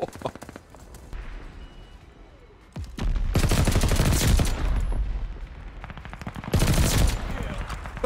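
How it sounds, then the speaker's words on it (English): Call of Duty combat plays out as scattered single shots, then dense bursts of automatic gunfire and mortar blasts, loud and close, broken by brief lulls. "Allied mortar fire coming."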